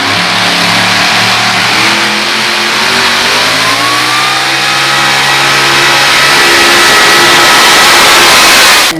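A pulling tractor at a county fair tractor pull revs hard and continuously for about nine seconds, engine pitch climbing and sagging under load, loud and close with no talk over it.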